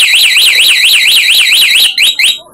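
A two-way car alarm sounds after being set off by its remote locator, a loud, rapid warbling siren that cycles steadily, then breaks into a few short chirps before stopping.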